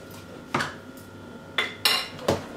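Dry ingredients for a Jamaican Easter bun being stirred in a bowl, with four or five distinct clinks and scrapes of a utensil against the dish over a quiet background.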